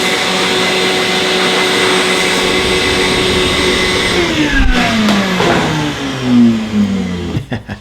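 A blower clears sawdust from a router-carved wood sign with outset letters and numbers, roaring loud and steady, then winding down with a falling pitch near the end.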